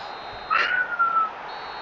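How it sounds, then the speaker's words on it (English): A referee's whistle blows for half-time in the football game eFootball, a single short tonal blast rising over a steady stadium crowd murmur. "he's blown his whistle for half-time"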